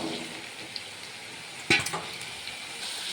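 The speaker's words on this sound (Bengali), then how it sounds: "দেখো তেলটা চলে এসছে, আমি এর মধ্যে আলুগুলো দিয়ে দেবো" Potatoes hit hot oil in a kadai wok: a steady bed of sizzling jumps into a sharp, louder crackling burst, then eases back to an even, close fry.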